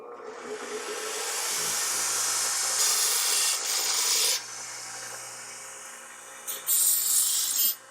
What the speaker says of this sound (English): we're gonna give this a quick sand, make sure we got all the sharp edges off it